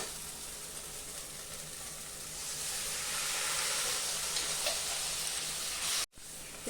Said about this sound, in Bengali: আমি এখন মশলা ধোয়ার জল দিয়ে দিব।